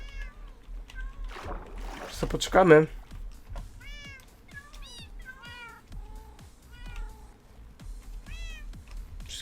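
Several cats repeatedly meowing while swimming in Minecraft, short rising mews in an uneven rhythm over faint water sounds, with a brief louder splash, and someone talking in between.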